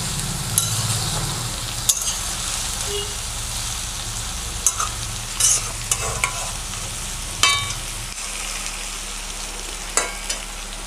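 Cabbage and potatoes with a hilsa fish head fry in a pan with a steady close sizzle, broken by sharp clinks and scrapes of a spatula stirring at irregular moments.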